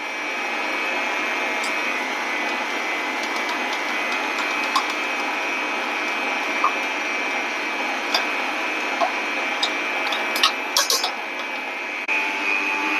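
An electric beater whips eight eggs with powdered sugar at raised speed for an Easter carrot and dates cake, giving a steady, close whirring drone with a high whine and scattered light clicks against the bowl.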